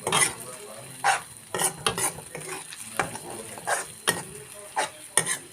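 Egg and tomato curry stirred in a pan, a series of close spoon scrapes and clinks against the metal over a gentle sizzle, arriving in irregular bursts.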